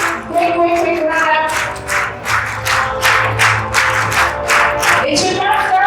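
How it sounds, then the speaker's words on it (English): Parents and audience at a school graduation day clap rhythmically in bursts, a loud close crowd of hands with cheering voices rising in between. "we should continue clapping, show that we love them and that we are very proud of them"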